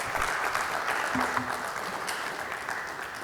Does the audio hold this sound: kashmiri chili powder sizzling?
no